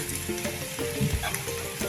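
Aromatics with garlic and ginger frying in a pan, a steady soft sizzle and crackle running throughout at moderate, close level, with occasional stirring scrapes and no talking.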